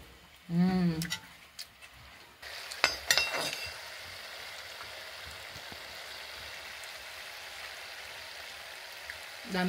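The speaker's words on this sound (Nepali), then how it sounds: "दामी गरेर उम्लिरहेको छ" Food bubbles and fries in a pan with a soft, steady sizzling hiss that runs through most of the stretch, after a brief voice and a few clatters at the start.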